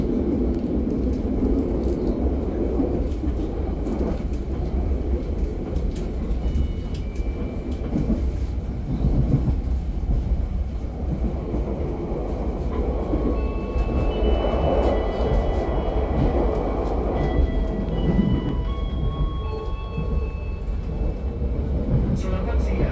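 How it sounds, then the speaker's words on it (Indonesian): The Kaligung train set passes close by in Indonesia with a loud, continuous rolling roar and rumbling wheels for the whole stretch, while voices talk faintly underneath. "Ini ada rangkaian kereta api Kaligung."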